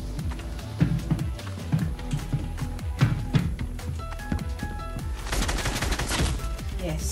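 Charge SMG fire in Fortnite, rapid bursts of close gunshots in uneven volleys, then a denser stretch of sustained automatic fire near the end, with game music underneath.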